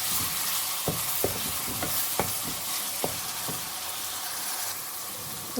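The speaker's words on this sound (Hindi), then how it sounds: "अब इसमें मैं डालूँगी लहसुन अदरक का पेस्ट और 1 मिनट इसको भी अच्छी तरह इसमें" Onions cooked in oil with ginger-garlic paste for chole give off a steady frying sizzle, broken by sharp clicks of a spoon stirring the pan, close up with no voices.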